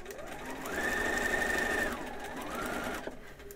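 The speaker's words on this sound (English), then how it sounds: "if I sew a little bit more, you can see" Sewing machine stitching fabric for a monk robe, a close, continuous whirring hum running for about a second and a half, a short slowdown, then a second burst before stopping.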